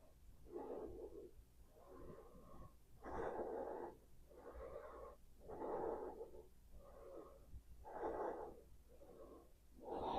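Slow, deep yoga breathing held in a strenuous floor pose, with faint, steady inhale-exhale cycles repeating roughly every second and a half, alone and close.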